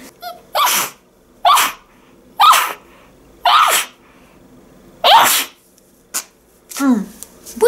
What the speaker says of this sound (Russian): Сейчас я чихну.